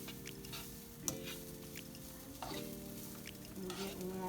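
Vegan goulash cooks in a pan with steady low sizzling and soft stirring scrapes, fairly faint and continuous, with a brief louder knock partway through and no talking.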